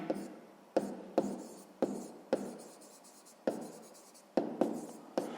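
Pen or pencil writes on paper in a quiet room, with close, scratchy strokes starting in sharp repeated bursts about every half second.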